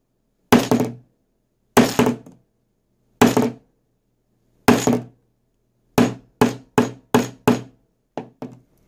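Hammer blows land on a phone with a liquid nano screen protector, loud close thunks: four widely spaced hits, then a quick run of five, then two lighter taps, each cut off by silence.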